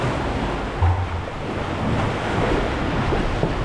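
Choppy sea water sloshing and surging in a sea cave at Flamborough Head, heard from a sea kayak as a steady, loud wash of broadband water noise with wind buffeting the microphone and no voices.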